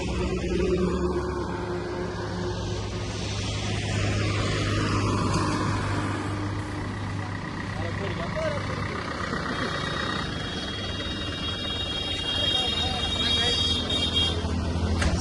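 A vehicle pulls away during a Ganesh immersion procession to Jamathi, its engine rumbling steadily and loudly beneath continuous crowd noise and talking.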